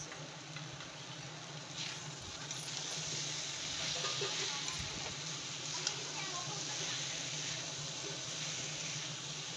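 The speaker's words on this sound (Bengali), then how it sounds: "যেরকম মশলা কষেছি ওরকম সয়াবিনটাও কষে নেব ভালো করে 10 মিনিট ধরে" Soybean chunks being sautéed with spice paste in a pan, a soft continuous sizzle with occasional stirring scrapes, quiet and close.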